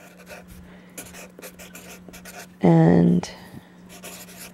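A brown marker scrawls across paper in steady scratchy strokes beneath a speaking voice, with a louder squeaky burst partway through.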